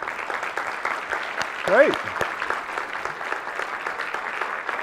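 A conference audience applauds at length, steady crowd clapping filling the room in a continuous wash while a voice briefly speaks over it.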